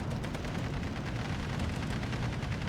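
Rapid machine gun fire rattles in a dense, continuous stream amid battlefield rumble in the Steel Division II war game, loud and unbroken throughout.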